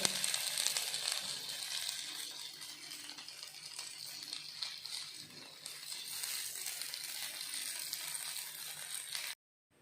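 Paneer tikka pieces frying in a pan make a steady, gentle sizzle with soft crackles, continuous and fairly quiet throughout, then cutting off abruptly at the end.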